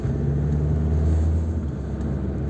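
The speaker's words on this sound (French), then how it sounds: "il y a beaucoup de circulation, ça fait du bruit" Steady low rumble of road traffic heard from beneath the Criviller viaduct, a continuous dense drone of cars passing overhead with no clear breaks.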